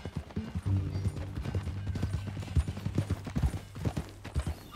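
A horse's hooves clip-clop at a walking pace in Red Dead Redemption 2, distinct close thuds in an uneven rhythm with a brief whinny and low background.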